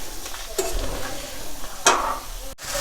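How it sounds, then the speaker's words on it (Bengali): Hot tempering (baghar) poured into a bottle gourd and shrimp curry, giving a loud close sizzle with sharp splashy hisses and stirring scrapes, no talk. "আমার বাগারটা হয়ে গেছে, আমি এটা তরকারিতে দিয়ে দেব।"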